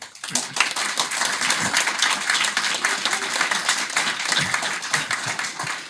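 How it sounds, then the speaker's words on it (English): An audience applauds loudly, dense clapping that stays steady throughout before tapering slightly at the end. "the people clapping as well"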